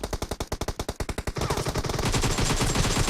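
Rapid automatic gunfire from the mobile battle-royale game PUBG Mobile, a fast loud burst of evenly spaced shots that gives way to a dense, continuous crackle of overlapping fire.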